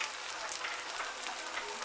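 Crumbed pork chops fry in an electric fry pan with a steady, close, even sizzle that holds without break or voice.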